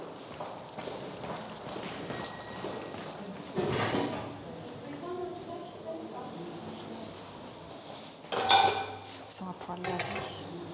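Cooking pots and pans clatter and clink in a women's prison kitchen, with metallic knocks scattered throughout and two louder crashes, while people talk in French.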